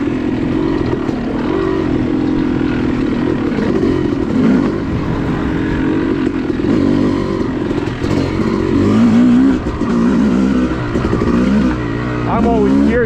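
A Yamaha YZ250 two-stroke dirt bike revs on a wooded off-road trail, its buzzy engine note loud and continuous, rising and falling with throttle changes, heard up close from the rider's position.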